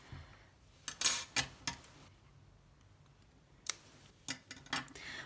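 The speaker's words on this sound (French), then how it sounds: "je vais couper mon fil parce qu'il m'embête un peu" Crochet yarn snipped with scissors while making a crocheted heart, a few sharp close snips and small clicks, with quiet handling noise between them and no talking.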